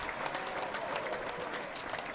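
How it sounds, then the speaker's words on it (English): Audience applause from a crowd at a talk, a continuous even patter of many hands clapping for a couple of seconds, moderately loud and unbroken. "I think we need an applause just for that."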